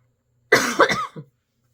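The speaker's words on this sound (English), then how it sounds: "I cannot stand to cough and all that on these videos" A single short cough burst, close and fairly loud, followed by a brief throat-clearing rasp, then silence.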